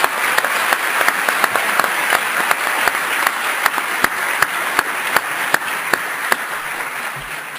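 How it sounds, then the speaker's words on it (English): An audience at a formal debate applauds a speaker, a full, steady roar of clapping that holds throughout and fades slightly at the end. "Let's give a warm round of applause for Dr."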